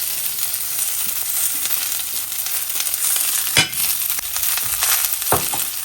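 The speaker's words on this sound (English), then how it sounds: "And I'm just gonna stir fry this around a little bit." Cabbage stir-fries in a cast iron wok with a constant bright sizzle. A couple of sharper scraping surges come as the spatula tosses the vegetables.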